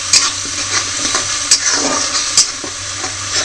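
Tomato and garlic paste frying in a pan while being stirred, with a steady sizzle and repeated scraping strokes of the spoon close up, no talking.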